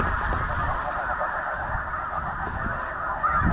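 A large flock of snow geese honks continuously during a spring conservation hunt, a dense, loud wall of overlapping calls filling the air with no speech.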